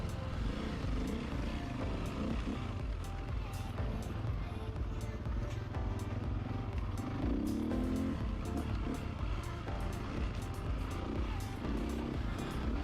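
Motocross bikes, including a KTM 525, ride together in distant replayed footage, giving a steady mix of engine drone and occasional revving swells, faint and continuous without talk.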